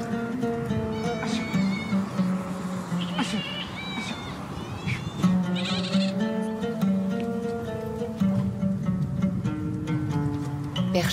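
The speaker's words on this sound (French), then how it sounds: "Perchés en équilibre sur des branches noueuses, des troupeaux de chèvres dégustent les feuilles d'un arbre millénaire, l'arganier." Goats perched in argan trees on the southern Moroccan plains bleat now and then while grazing, heard under a voice narrating throughout.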